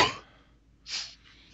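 A person coughs close to the microphone, one sharp burst followed by a breathy second cough and a faint exhale in an otherwise quiet room.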